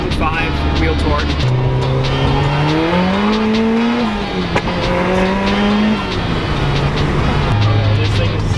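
Supercharged ND Miata-based Exocet engine pulling hard on a mountain touge road, a loud, steady rising and falling engine drone as it accelerates and shifts, with a voice talking over it.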